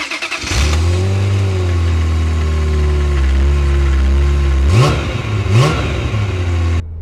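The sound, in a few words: Ferrari F355 3.5-litre V8 engine starting and revving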